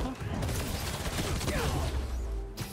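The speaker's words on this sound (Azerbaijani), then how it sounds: "Öz özlərini gülləliyirlər" Rapid bursts of gunfire in Marvel's Spider-Man 2 crackle continuously amid a busy mix of game effects, with voices talking over it.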